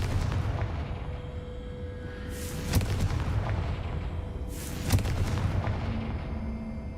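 Two booming Confringo fire-spell blasts in the video game Hogwarts Legacy, each a heavy burst with a rumbling tail, spaced a couple of seconds apart over a steady low game ambience.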